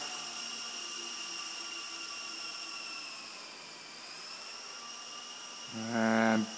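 Solo Pro 328 RC helicopter flown indoors at full throttle, giving a steady, close, high-pitched whine of motor and rotor that holds throughout, swelling a little louder near the end.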